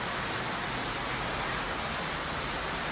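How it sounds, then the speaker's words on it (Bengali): Heavy rain pouring down in a steady, even hiss with no breaks, continuous and fairly loud throughout with no voices. "হেভি জোর বৃষ্টি হচ্ছে"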